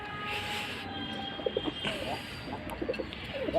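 A pair of white Bombay pigeons gives a few soft, low coos in the middle and end of the stretch over steady background hum, with some faint noise that may be a voice.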